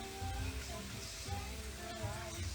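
Onions sizzling in a pan for a ham and comté coquillettes risotto, a steady soft frying crackle with faint low rumble and some background noise throughout.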